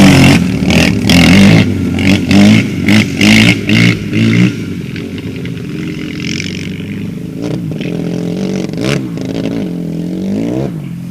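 A dirt bike engine revs hard in loud, choppy bursts while the rider pulls a wheelie and holds it at the balance point, then settles into a steadier, lower drone with some clattering near the end.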